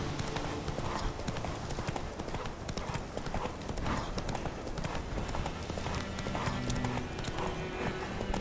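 Roach, the horse in The Witcher 3 video game, gallops in a quick, steady drumming of hoofbeats on the ground, close and continuous, with game ambience layered behind and no clear talk.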